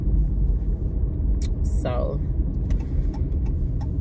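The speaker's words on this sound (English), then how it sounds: "Somebody driving down the street with no headlights on" A car passes along a residential street at night with its headlights off, heard as a steady low rumble of engine and tyres under brief speech, with a few faint higher clicks and a short whine partway through.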